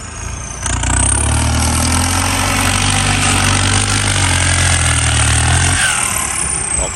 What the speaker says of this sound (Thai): เปลี่ยนโบมา ใหม่ นะ เสียงลั่นๆนะครับ